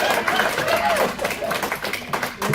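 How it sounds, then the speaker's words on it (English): Audience applause at a magic show, a dense wash of clapping with crowd noise and voices mixed in, steady and moderately loud throughout. "this causes a loud round of applause"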